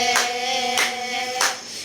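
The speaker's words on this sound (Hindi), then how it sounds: "ताली को बजाओ और धन्यवाद करो" A church congregation claps in unison during worship, three loud broadband claps spaced about 0.6 seconds apart over a sustained musical drone, with no voices heard.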